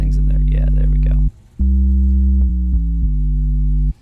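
A pure sine tone in Ableton with added distortion harmonics, played as sustained loud notes. It cuts out briefly, then returns stepping through a few pitch changes before stopping.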